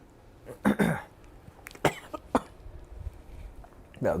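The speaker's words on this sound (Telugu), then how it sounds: "దగ్గు." Several separate coughs sound close to the mic, with short pauses between them against a quiet room.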